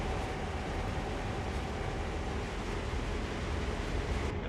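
A long trash train rolls slowly through a rail yard on the NEC New York route in Train Sim World, a constant dense rumble and rattle of wagons with no pauses.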